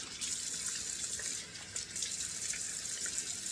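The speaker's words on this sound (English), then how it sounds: "let's splash on a couple of splashes of cold water here out of the sink" Cold water runs steadily from a bathroom sink tap and splashes into the basin, a close, continuous hiss-and-spatter with a brief dip midway before resuming.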